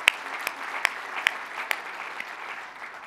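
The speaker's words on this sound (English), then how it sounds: "You can clap." Audience applause fills a conference hall during a keynote at a metastatic breast cancer conference, a steady, dense clapping from a large crowd with a few sharper claps standing out.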